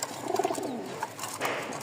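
Pigeons, three pairs of breeding birds in a small loft, coo nearby in a few soft, rounded calls, with some rustling and flutter around them and no talking.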